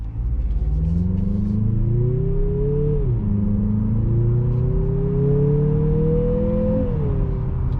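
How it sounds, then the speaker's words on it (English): 2023 Mazda CX-50 Turbo in sport mode accelerates hard from inside the cabin, engine droning and rising through two gear changes with a whirring turbo spool on top, loud and continuous without speech. "And then you really hear this turbo spool."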